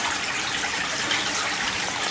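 Creek water rushes steadily as it emerges from underground in Appalachian woods, a close, continuous wash of flowing water with no voices.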